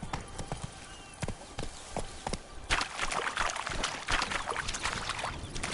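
Roach, the horse in The Witcher 3, running with rapid rhythmic hoofbeats that grow busier and louder partway through, close up over a bed of game ambience.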